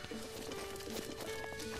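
Horse hooves clip-clop in quick, light repeated steps in Zelda: Breath of the Wild, fairly faint beneath a steady tonal game backdrop.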